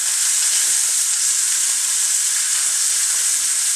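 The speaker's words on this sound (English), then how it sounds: "we're continuing to sear the meat" A rib roast sears in a hot pan, giving a loud, steady, dense sizzle that holds unbroken throughout with no voices over it.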